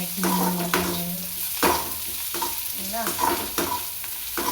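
Drumstick and coconut poriyal sizzles in a hot pan while a spoon stirs it, giving a close, steady frying hiss with repeated scraping strokes.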